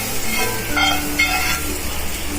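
Hot oil tempering for a moong dal handvo sizzles and crackles steadily up close, a continuous bright frying hiss with no voices.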